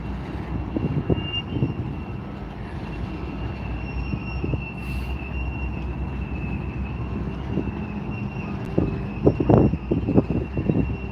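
A steady, heavy rumble of rolling rail cars and low-power GP locomotives passing, with a continuous drone and occasional clanks.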